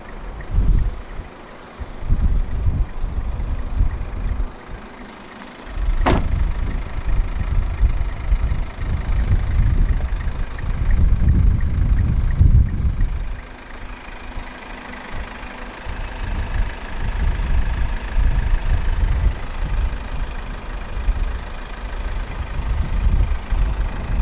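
A 2015 Kia pro_cee'd 1.6 CRDi 126 ISG SE diesel engine idles steadily at close range with a low, rumbling tone, and a brief sharp click sounds partway through.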